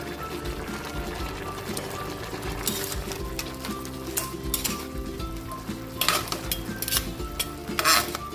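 Long green chilies added to a pan and fried, a steady sizzle with spoon scrapes and stirring clatter against the pan throughout, close by.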